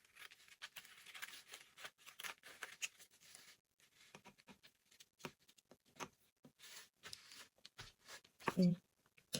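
Scissors snip through a paper sewing pattern during dart manipulation with the slash-and-spread method. Small, crisp cutting clicks come in irregular bursts, close and fairly quiet, under a person talking.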